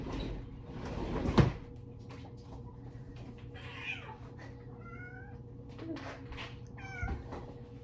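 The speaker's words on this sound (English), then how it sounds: "this is my kitty." A pet cat meows a few times indoors, short rising calls near the middle and end, fairly quiet against room noise, with a sharp knock of a cupboard or door early on.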